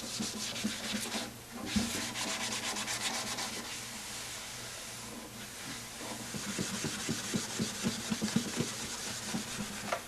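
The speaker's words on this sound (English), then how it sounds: "strokes with the grain in the final sanding" Fine-grit sandpaper rubs over a shellac finish on a guitar neck and peg head in steady strokes with the grain, a close, continuous scratchy hiss that becomes a series of distinct rhythmic swipes toward the end.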